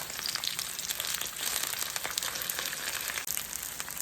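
Something browning in a frying pan as a crunchy add-in for collard greens gives a steady, fairly quiet sizzle with faint crackles and no talking.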